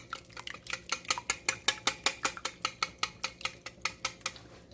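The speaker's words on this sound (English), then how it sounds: "Give my eggs a whisk a little more" Eggs whisked in a bowl for a breakfast dish, a fast steady run of sharp rhythmic clicks and taps, close and clear with no talking.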